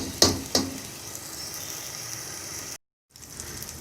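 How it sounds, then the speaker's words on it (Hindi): Masala spices with salt, garam masala and coriander powder roasting in ghee for dhaba-style chana dal, a steady soft sizzle broken by two sharp stirring knocks near the start and a brief dropout before the frying resumes. "ये देखो हमारा मसाला बड़ी अच्छी तरह भून रहा है।"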